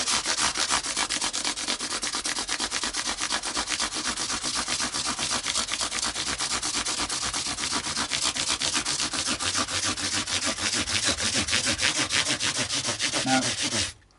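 A radius-shaped block sands an Epiphone SG in a steady, rhythmic back-and-forth rasp, close and continuous for the whole stretch before stopping abruptly at the end.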